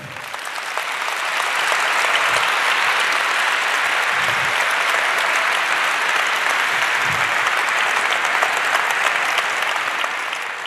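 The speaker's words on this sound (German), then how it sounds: "Einen kleinen Applaus dafür" Large audience applause at a hacker congress talk on intelligence surveillance programs, swelling in over the first two seconds into a loud, dense, sustained roar of clapping that holds to the end.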